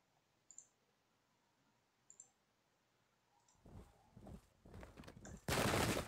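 Musket volleys in the Pike and Shot strategy game, Dutch against French: a few faint clicks, then a ragged crackling fusillade that builds into a loud, dense burst of massed fire.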